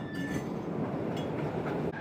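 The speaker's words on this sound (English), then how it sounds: "It's a driverless train, which is a lot of fun." A driverless Copenhagen Metro train in motion, a steady loud rumble of wheels on rails with light clinks, rattles and a faint brief squeal, with no voices.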